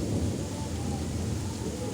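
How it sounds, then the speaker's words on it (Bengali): Steady rain pours outside during a stormy monsoon day while deep thunder rumbles low underneath, a continuous wash of sound with no voices. "আর মেঘে তো গুরুম গুরুম শব্দ করছে"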